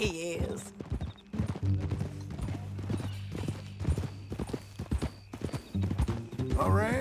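Horse hooves clip-clop steadily in Red Dead Redemption 2 as a ridden horse walks along, a close rhythmic clatter heard beneath conversation between characters.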